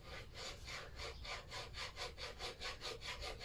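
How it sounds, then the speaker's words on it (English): A flat file is drawn back and forth to take burrs off metal on a restored Lister D engine. About a dozen rapid, even rasping strokes sound close and quiet, with no talk. "I'm going to just use a flat file, which is smooth on one side. And I'm going to just carefully run it along here"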